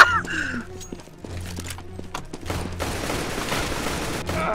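Gunfire in the Roblox shooter Counter Blox, a series of sharp game gunshots cracking at irregular intervals, with a denser burst of shots midway through the short stretch.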